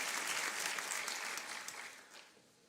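A church congregation breaks into sustained applause, dense and steady at first and then tapering off gradually over a few seconds, with no voices rising above it.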